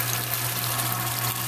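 Tap water running steadily from a spigot fed by a carbon filter system in a home kitchen, a continuous close rushing stream with a low electrical hum underneath and no talking.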